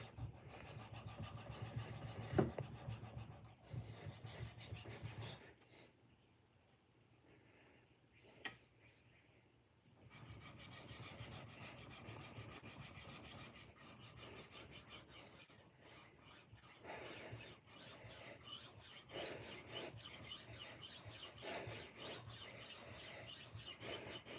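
Faint rasping strokes of a kitchen knife drawn across a sharpener, in irregular bursts with a quiet pause midway, close but low in level, a dog panting softly nearby.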